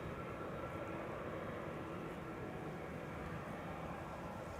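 A United Boeing 777 arriving from San Francisco approaches Schiphol's Kaagbaan runway 06, a faint, steady, distant jet roar with broadband rumble and no talking.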